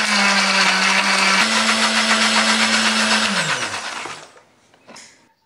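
A blender motor grinds spice paste with a little water loudly and steadily, changes pitch once, then winds down and stops, followed by a faint clatter.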